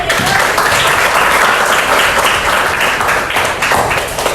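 Classroom audience applauding a student group after its presentation on promotional media for marketing, steady dense clapping filling the whole stretch at high level without pause.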